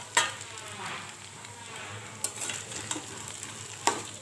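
Beef noodles fry in a hot pan with a continuous close sizzle, while a utensil stirs and scrapes through them in a few distinct sharp clacks spread across the span.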